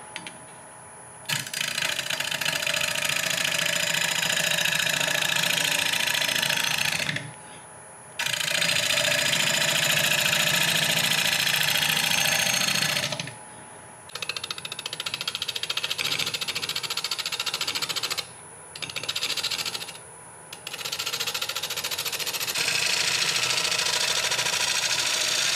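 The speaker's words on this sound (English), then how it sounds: "turn the speed down, turn it on. I'm about 850 RPM. Gonna be using my 5/8 inch bowl gouge." A wood lathe turning a bowl at about 850 RPM with a 5/8 inch bowl gouge gives a loud, continuous rough cutting and grinding noise in long stretches, broken by brief pauses as the gouge lifts off.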